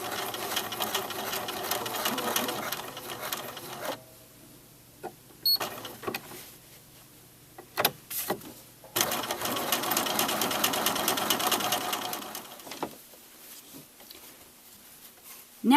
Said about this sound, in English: First, we're going to sew around the perimeter of the Atarah